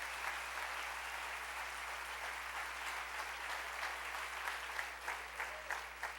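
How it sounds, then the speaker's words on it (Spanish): A church congregation applauds in a steady, continuous wash of clapping that fills the room, fairly distant and even, with a low electrical hum underneath. "Dale otro aplauso al Rey bendito."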